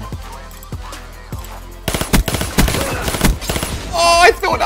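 Gunfire from a weapon in a video game, first a few spaced single shots and then rapid bursts of loud automatic fire, with a voice speaking over the shooting.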